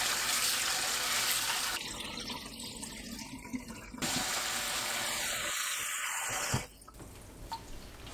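Tap water runs steadily into a sink while adzuki beans are washed, with faint splashing and shifting flow and a brief clatter near the end, fairly quiet and without voices.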